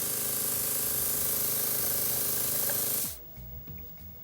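A Sparmax Arism Viz airbrush compressor runs with a steady hiss of air over a low motor hum, then cuts off abruptly, leaving faint clicks and handling sounds in near quiet.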